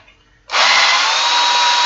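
A power drill kicks on abruptly and runs at a loud, steady high whine, boring into a part clamped in place, close up with no talk.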